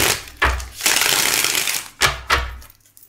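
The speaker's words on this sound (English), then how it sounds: "they want me to shuffle again" Tarot cards being shuffled during a reading, a series of loud, close riffling bursts with short pauses between them and no talk over them.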